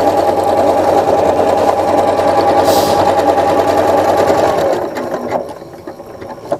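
A sewing machine stitching galloon lace trim in a decorative stitch pattern, a loud fast rhythmic whirring that runs steadily for several seconds, then slows and stops, leaving a few soft handling clicks.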